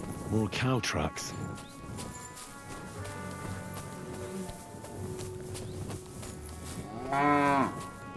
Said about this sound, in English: Two nicely fattened cows.